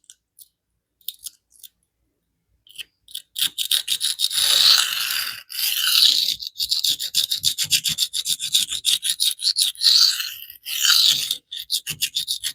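Maxamet steel knife blade drawn across an extremely coarse diamond plate near the plunge area, giving repeated close rasping strokes in an uneven rhythm, a few short scrapes first and then longer steady passes with brief gaps.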